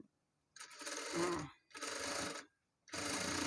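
A sewing machine back-stitching a smocked sleeve cuff runs in three close bursts, each about a second long, with short silent pauses between them.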